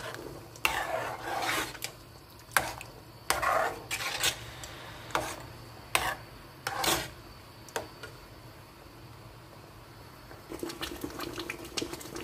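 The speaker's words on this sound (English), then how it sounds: "Stir everything together" Nigerian fried stew stirred in a pot: irregular scraping and rubbing strokes of a spoon against the pot, with soft bubbling and sizzling of the thick stew between strokes, close and fairly quiet.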